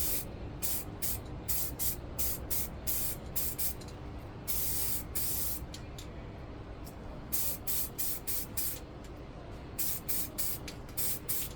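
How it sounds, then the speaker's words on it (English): Etch primer sprays onto metal parts of a 1/14 Tamiya Grand Hauler model truck, heard as short, close hissing bursts from an aerosol or airbrush, repeated in quick pulses with one longer pass. "Metal parts we are just going to etch prime using etch primer."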